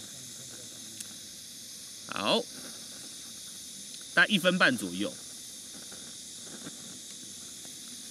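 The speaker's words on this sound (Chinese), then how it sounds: "可以看到哦，现在快要沸腾了" Water in a small camping pot, heated for brewing coffee outdoors, hisses softly and steadily as it nears boiling, continuing under a couple of short spoken phrases.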